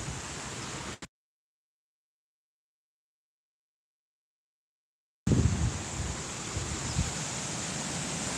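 Wind blowing outdoors on a windy day, a steady broadband rush that is cut off by a long stretch of silence, then returns louder and gustier.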